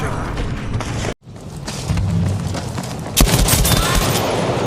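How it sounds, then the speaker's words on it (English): M16 rifle gunfire in the video game Shellshock 2: dense, rapid bursts of shots that stop briefly, then resume and grow louder toward the end. "this M16 in particular makes the same noise of the Shellshock from Battlefield"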